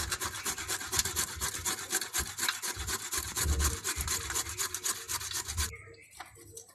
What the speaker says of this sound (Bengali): আদাটাকে এই যে আমি এই মেশিন আছে এতে ঘষে নেব।